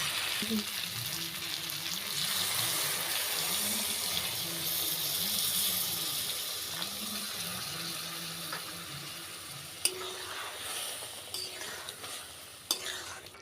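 Prawns cooking with milk in a pan for Bengali chingri malai curry make a low, steady sizzle under repeated rhythmic stirring scrapes, with a couple of sharp clinks near the end and no speech.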